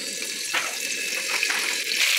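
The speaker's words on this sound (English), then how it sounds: "So we're going to pour in the red oil." Red oil is poured into a cooking pot in a steady, continuous liquid stream, close and moderately loud, with faint splashing as it lands.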